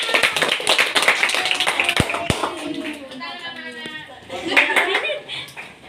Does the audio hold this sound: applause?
yes